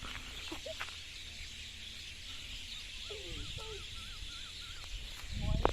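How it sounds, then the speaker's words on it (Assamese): Birds calling at dusk in rural Assam, faint, thin chirps and short rising whistles in the middle, set against a low steady background, with a louder rustle at the end. "এয়া হ'ল চৰাইৰ শব্দ।"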